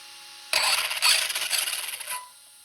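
ARRMA RC car's electric motor and speed controller during a brake test, a sudden close burst of whining, rattling mechanical noise lasting under two seconds before cutting back to near silence.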